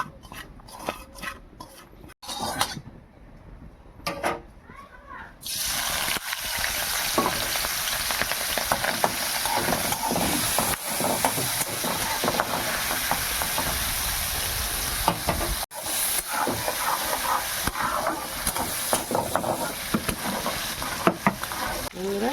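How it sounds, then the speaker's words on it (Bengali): Apple snails fry in hot oil with a pinch of salt and turmeric, a loud steady sizzle taking over after a few quiet seconds of clinks and stirring, with occasional pan scrapes throughout. "গেঁড়িগুলো একটু তেলে ভেজে নেব।"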